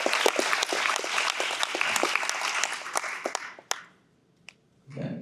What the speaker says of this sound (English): So give Kevin a round of applause.